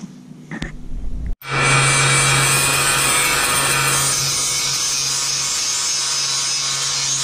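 Harbor Freight 4x6 bandsaw cutting metal stock for stand legs in a shop: a loud, steady grinding saw hum with a constant low tone that starts abruptly after a short pause and runs on continuously.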